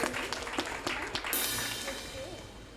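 An audience at a Jain temple cultural program claps to praise the children, a busy spread of applause that swells midway and fades, with voices mixed in.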